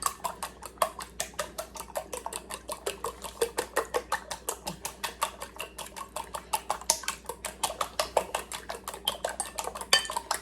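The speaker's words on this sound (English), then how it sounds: "I'm just going to whisk them with a fork really well until it's one mixture" Eggs are whisked with a fork in a bowl, producing a fast, even stream of light clinking taps against the dish, close and continuous throughout.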